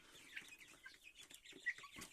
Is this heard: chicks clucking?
yes